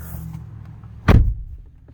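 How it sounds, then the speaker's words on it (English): A car door unlatches and swings open with a single solid thunk, close by, against a quiet background. "Open the door."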